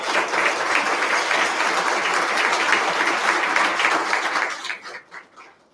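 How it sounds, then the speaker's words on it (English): Audience applause at a city's state-of-the-city event, a dense steady clatter of many hands that holds strong, then tapers off and dies away near the end. "Let's give them a round of applause."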